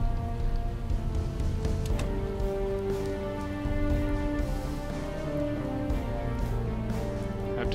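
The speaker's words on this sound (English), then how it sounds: "Oh, crap, it's raining." Rain falls steadily in the video game Project Zomboid, a continuous soft hiss of drops spread evenly across the whole stretch beneath a sustained tonal music bed.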